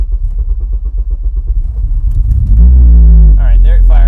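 A Honda K24 engine with drive-by-wire on a cold start cranks in a steady rhythmic churn for about two seconds, then fires and catches into a loud, heavy rumble, with a voice briefly over it.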